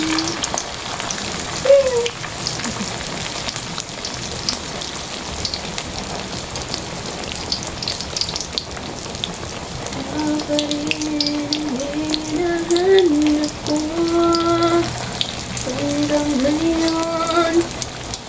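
Turon, saba banana rolls, frying in hot oil: a continuous rain-like sizzle and fine crackling throughout, with a faint whistling tone and other background noises in the latter half.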